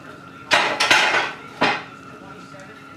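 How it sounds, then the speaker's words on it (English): Cooked whole grain pasta is shaken in a metal colander, giving two or three loud clattering jolts close by, then fading to quiet. "Just put it in the colander, shake it up a little, put it in my serving dish."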